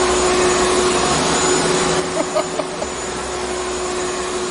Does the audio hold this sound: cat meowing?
no